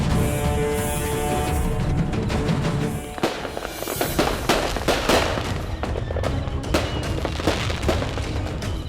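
Firecrackers burst in rapid, dense volleys, first as a continuous crackling roar and then as sharper scattered pops and bangs, loud and close with no talking.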